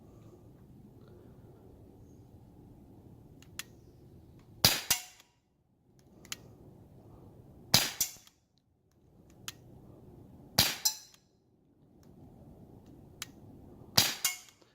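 An Umarex Glock 19 .177 BB gun fires at targets 25 yards away outdoors, four sharp cracks spaced a few seconds apart, each followed by a brief metallic ring, with quiet background hiss between shots.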